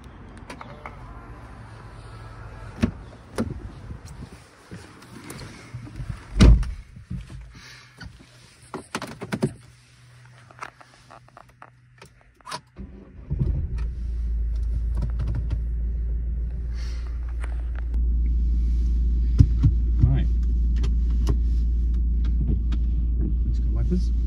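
A Volvo V40 small car pulls away and drives, its engine and road rumble rising to a steady, loud cabin drone after a quieter stretch of idle and a few knocks.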